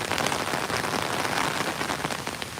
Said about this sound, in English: Sorry in advance if you're hearing a lot more of that rain hitting the umbrella.